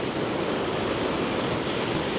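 A rain-swollen waterfall and stream rush steadily, a continuous broadband roar of flowing water with no voices or breaks.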